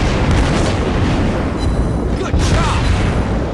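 Naval gunfire in World of Warships Blitz, heavy booming shell blasts and rumbling explosions from the battleship Gneisenau, loud and dense throughout, with a brief voice speaking over the din.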